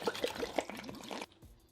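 Spiced cider marinade is poured into a zip-top bag holding pork, giving a brief, soft liquid glug and trickle at close range that cuts off after about a second.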